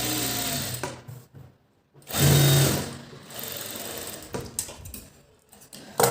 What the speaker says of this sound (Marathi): आता आपण ह्याला मधून टिप मारून घेऊया कारण आपल्याला गळा कट करायचा आहे